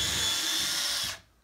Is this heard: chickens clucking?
no